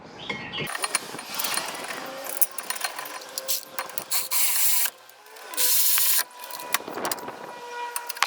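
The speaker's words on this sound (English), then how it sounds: "Okay, installing the caliper mount." Ratchet clicking as the caliper mount bolts go onto the front brakes of a 2011 Toyota Sienna, with bursts of fast metallic clatter and short pauses, close by and with no talk.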